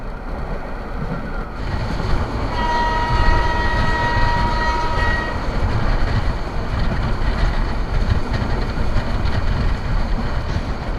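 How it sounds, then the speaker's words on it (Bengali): The Meghna Express passenger train, running from Chandpur to Chattogram in Bangladesh, rushes along fast with a loud, steady roar of wheels and carriages and a brief ringing tonal whine partway through. "ম্যাগনা এক্সপ্রেস ট্রেনটি মোটামুটি ভালোই দ্রুত গতিতে ছুটে চলেছে"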